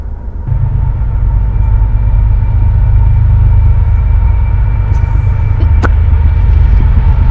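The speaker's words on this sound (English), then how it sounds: "There's a train." A loud, continuous low rumble of a slow train rolling past nearby in very cold weather, steady throughout, with a brief sharp click partway through.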